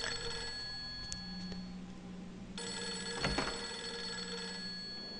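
A telephone keeps ringing in a dim house in the video game Fatal Frame 3, a faint continuous electronic ring beneath a steady hum of game ambience, with no talking.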